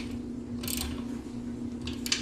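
A hand ratchet tightens studs on a double pedestal wooden dining table, giving two short bursts of clicking over a steady low hum, fairly close.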